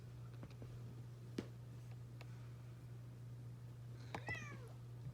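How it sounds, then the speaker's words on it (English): A cat indoors lets out a short, faint meow near the end, with a few soft ticks and rustles earlier over a steady low electrical hum. "My cat's wanting to help us out here."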